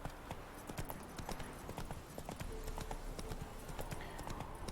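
Roach the horse galloping in The Witcher 3 video game, rapid rhythmic hoofbeats clopping steadily throughout with faint game ambience and light background talk.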